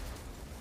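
A Tesla grenade bursts in the video game Wolfenstein: The New Order, a brief, dense, loud electric explosion filling the whole short moment.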